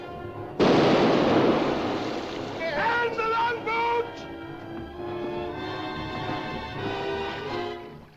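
A ship's cannon blast erupts loudly after a shouted order, followed by rumbling, crackling echoes and scattered shouts and voices over a noisy battle scene aboard a sailing vessel.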